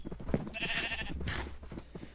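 Sheep bleating in Minecraft, a couple of short, nasal bleats close by in a farm pen, with quiet background noise and no talking.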